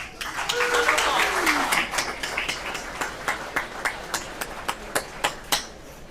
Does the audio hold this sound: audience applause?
yes